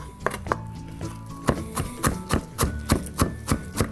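A knife finely chopping onion on a cutting board for a bruschetta grilled cheese, heard as a steady series of about a dozen crisp, close taps that quicken toward the end, with no talk.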